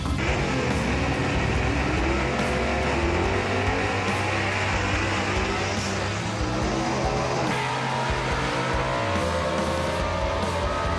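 A drag-racing gasser does a burnout, torching its Mickey Thompson tires: a loud, sustained engine roar with screeching tire squeal that holds steady for the whole stretch and never drops out.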